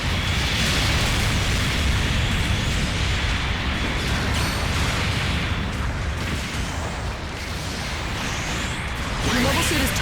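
Explosions of mobile suits in the video game Gundam Battle Operation 2 form a dense, continuous roar of booms and bursts that stays loud throughout, with battle noise layered on top.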